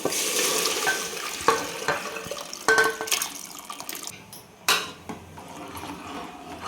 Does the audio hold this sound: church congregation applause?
no